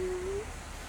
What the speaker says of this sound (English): Look at that pretty bird up there.